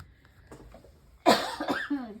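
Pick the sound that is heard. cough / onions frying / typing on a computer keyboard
cough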